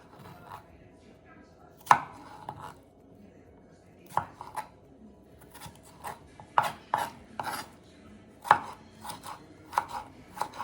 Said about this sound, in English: cut the cucumber into 4, then cut into quarters. Slice the seeds out.